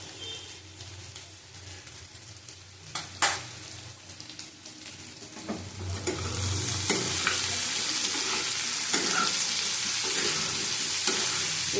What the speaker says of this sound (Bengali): এই আঁচটা নিয়ে কষিয়ে নেব।